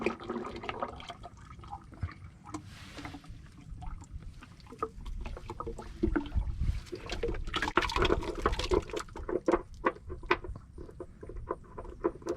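Sludge and water draining out of a Volvo D7E engine during a service, a continuous wet splattering and pouring with irregular splashy bursts, close by and fairly steady throughout.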